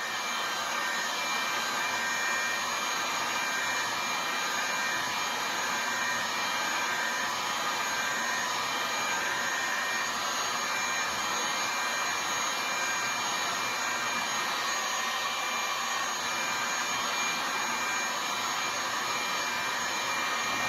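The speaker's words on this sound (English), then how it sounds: "See what happens with hot air gun" A hot air gun blows steadily on the IF module of an IFR 1200 test set, a constant loud whooshing roar with no pauses and no speech.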